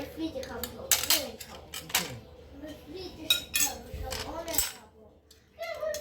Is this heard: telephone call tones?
no